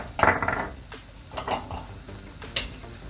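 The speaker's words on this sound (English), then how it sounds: "Let's give that a little stir." A utensil scraping and clinking in a pan of jerk chicken rasta pasta with celery and ginger, a few irregular stirring strokes with soft metallic taps, close and fairly quiet.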